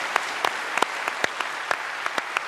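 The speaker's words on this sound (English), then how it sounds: "you can now give yourselves a round of applause" Theatre audience at the Seymour Centre, Sydney University, applauding in a steady wash of clapping with sharper individual claps standing out, loud and continuous without talk.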